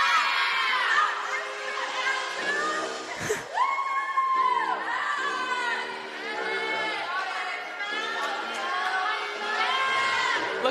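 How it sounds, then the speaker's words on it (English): Teammates cheer on a high school gymnast during her routine at a meet, with steady excited crowd chatter, whoops and shouts echoing in a gym, one announcer-like voice talking over it. "her teammates are cheering her on"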